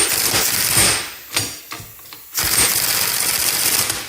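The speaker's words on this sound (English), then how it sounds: "And I'm going to slide the idler shaft out at the same time." Idler shaft being slid out of an R32 GTR gearbox during synchro gearset assembly, with a run of metallic ratcheting clicks and scrapes, a few sharp knocks and brief pauses, close and fairly loud, no talking.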